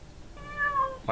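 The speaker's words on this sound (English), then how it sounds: "just a sound of a cat meowing" A single cat meow played back as a sound file, one short rising-then-falling cry lasting under a second, fairly clear and alone, ending in a brief louder burst.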